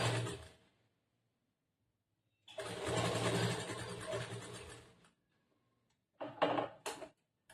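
A sewing machine stitches the lining of a churidar top in two runs: a short burst, then a longer steady whirring stretch of about two and a half seconds, followed by brief clicks and stops.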